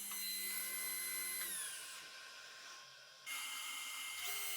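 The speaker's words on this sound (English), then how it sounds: "I'll first trim off the end of the strip to make sure it's perfectly square" A power saw trims the end of a wooden strip to square it, its steady high whine dropping and falling quiet briefly before spinning back up, close and alone.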